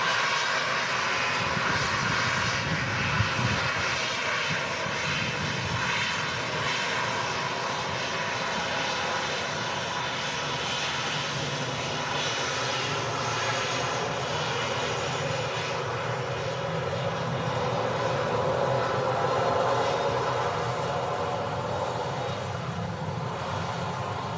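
Aircraft engine noise from a plane still far out on approach to Manchester Airport in strong crosswinds, a steady broad roar that holds evenly throughout with no speech.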